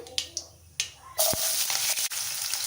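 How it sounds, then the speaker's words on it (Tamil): Small onions hit hot groundnut oil with mustard seeds, bursting into a loud, broad sizzle after a few sharp taps and pops, then frying steadily and close. "இப்போ கட் பண்ணி வச்சுக்கிற சின்ன வெங்காயம் சேர்த்துக்கலாம்"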